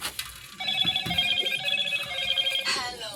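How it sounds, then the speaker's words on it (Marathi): A telephone rings with a steady, tonal ringtone, sustained for several seconds at moderate volume, with some faint talk and clatter around it. "दिलू मला कशाला फोन लावतोस"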